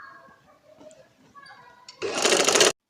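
A sewing machine stitches a baby girl's summer frock, starting abruptly after quiet handling noises and running loud and steady for under a second before cutting off.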